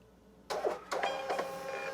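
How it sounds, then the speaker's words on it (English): A Nelco thermal label printer starts up abruptly and feeds labels with a close, whirring mechanical buzz in several short surges lasting about a second and a half. "This is a Nelco brand thermal label printer."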